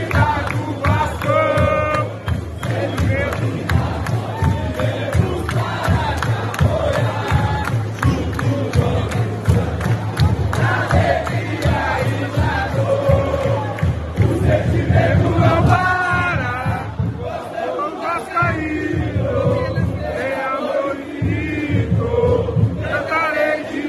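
Vasco football supporters fill a stadium in Cariacica with sustained chanting and cheering, a loud massed crowd singing continuously with drum-like pulses underneath, whoops rising above the roar.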